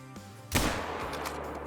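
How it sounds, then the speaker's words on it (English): A single loud rifle report rings out during a coyote hunt in the game Call of the Wild: one sharp, booming crack followed by a long rolling echo fading across open terrain. "Tried to make a perfect brain shot."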